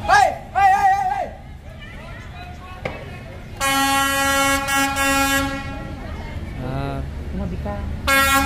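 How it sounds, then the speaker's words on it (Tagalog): Train horn honking repeatedly as a train approaches along the narrow Hanoi train street, loud sustained blasts with people shouting and talking in between. "Yung train. Nagbubusina na siya."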